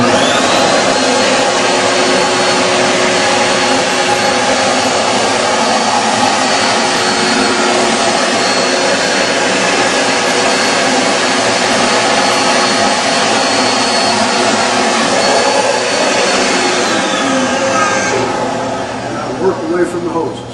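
A Steamin Demon carpet extractor runs continuously while cleaning carpet, a loud, steady motor and suction roar that holds for the whole stretch before tapering slightly at the end.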